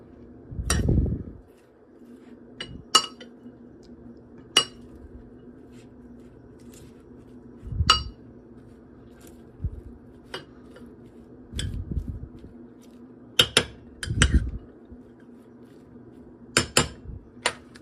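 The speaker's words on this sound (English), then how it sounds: "I'll give it a little bit of a stir here." Spoon stirring a savory cooked rice dish in a pot, seasoned with allspice, giving a series of scattered metallic clinks and low scraping knocks at irregular intervals, fairly close and moderately loud, with no talking.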